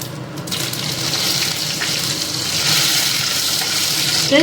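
Mustard seeds and urad dal splutter in hot oil, a loud, dense crackling sizzle that holds steady for a few seconds and builds slightly toward the end.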